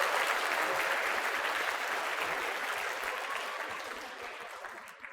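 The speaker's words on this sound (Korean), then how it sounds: "자, 다시 한번 옆에 짝꿍 보시면서 이분을 위한 인생 박수 한번 해보겠습니다." Audience at a corporate HR talk applauding together for their seat partners, a dense wash of many hands clapping that holds steady, then gradually thins and fades toward the end.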